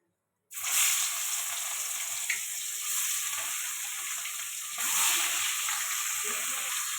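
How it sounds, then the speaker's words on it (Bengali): Fish coated in chilli powder sizzles steadily in hot oil, a loud continuous frying hiss that starts abruptly and holds with slight swells, with no talking. "তেলটা গরম হয়ে গেছে, মাছ দিয়ে দেবো।"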